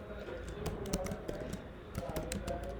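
Typing on a computer keyboard produces soft, irregular clicks and taps at close range beneath faint background hum, with a voice speaking quietly under the keystrokes.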